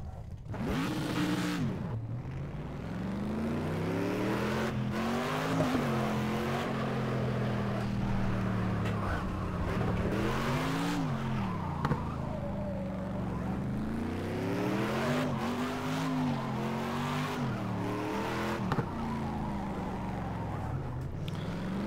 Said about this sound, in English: I'm not very good at drifting.